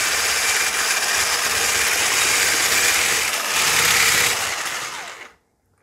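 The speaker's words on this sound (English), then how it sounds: "Now I have my electric whisk and I'm just going to whisk until it's really fluffy" Electric whisk beating pizza rustica filling until fluffy, a steady loud mechanical whir that holds throughout and then cuts off abruptly near the end.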